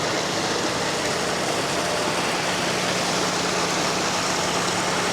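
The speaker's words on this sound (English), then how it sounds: "it's a shame that there's a very noisy bus over here" A noisy bus engine idles nearby at a water park, producing a constant loud broadband rumble with a steady low hum and no breaks.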